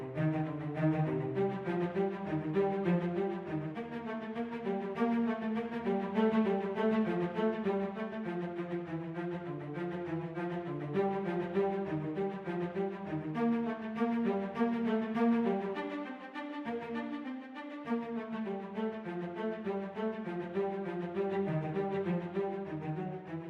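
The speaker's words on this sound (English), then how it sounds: "Now our string section is ready to play and will sound like this." Sampled orchestral string section, violas and cellos playing a repeating ostinato from a Synchron Prime Edition library, continuous and full with a steady pulsing rhythm throughout, no voices.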